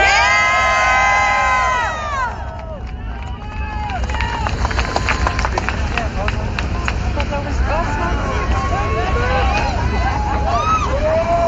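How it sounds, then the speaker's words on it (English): A crowd at a vape rally in Washington, DC cheers, whoops and shouts loudly, with clapping mixed into the rising din and excited voices carrying over it throughout. "Give him a round of applause."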